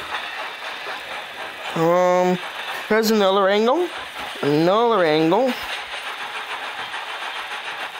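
A steam locomotive whistle from a Thomas the Tank Engine model in a train simulator video game sounds in three separate wavering blasts over a steady running rumble, while a person talks between them.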